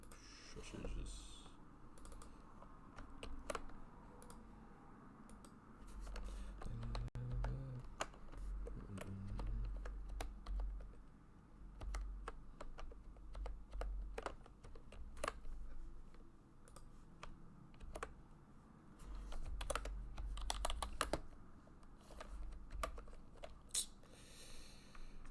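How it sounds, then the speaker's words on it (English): Rapid clicking keystrokes on a new computer keyboard in an irregular, close rhythm, with bursts of typing over low room noise and occasional soft mumbling from a person nearby. "This new keyboard."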